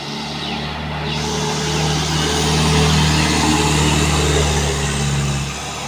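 A heavily loaded Mitsubishi Fuso truck, carrying about 10 tons of instant noodles, labors up a steep climb, its engine droning loud and steady with a deep laboring hum that swells in the middle and holds.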